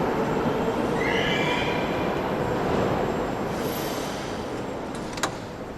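A metro train in Russia rumbles loudly and continuously, with wheels squealing in a high-pitched whine partway through and a brief sharp clank near the end. No one speaks.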